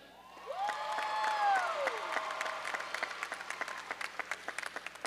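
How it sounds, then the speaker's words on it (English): Applause from a commencement crowd greeting the mace bearer, broad steady clapping with faint cheering and a whistle-like tone early on, then thinning into scattered individual claps toward the end. "A round of applause for our mace bearer, Dr. Frank Giuliano."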